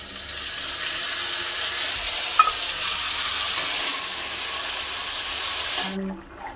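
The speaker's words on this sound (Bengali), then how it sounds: "এবার আমি আলুগুলো ভেজে নিচ্ছি তেলে" Potatoes fry in hot oil with mixed spices, giving a steady, loud broadband sizzle with a few faint clinks, then cutting off abruptly near the end.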